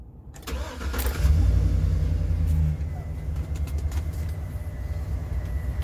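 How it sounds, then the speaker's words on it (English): A 2012 Chevy Express 3500 cargo van's V8 engine cranks and catches, then settles into a deep, steady rumbling idle close by, with some background noise. "I'm gonna start it up."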